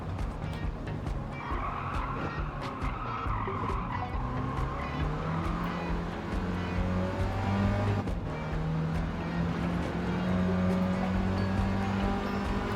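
A Mini engine droning and revving steadily through a Gran Turismo 7 race, with tires squealing at times and other cars nearby, continuous and fairly close with no talk.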